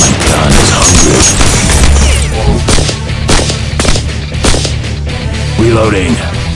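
Dense, loud bursts of rapid automatic gunfire and blasts from the Evolution: Battle For Utopia video game, bunker sector, firing almost continuously with brief voice-like fragments mixed in.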